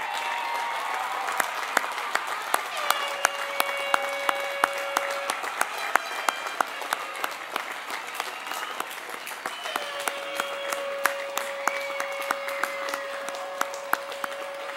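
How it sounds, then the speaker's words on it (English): A commencement audience at the Collins College of Hospitality Management ceremony in 2009 gives sustained applause, a dense wash of clapping with sharp individual claps. A voice talks intermittently through it. "ask them to stand for a well-deserved round of applause from the class of"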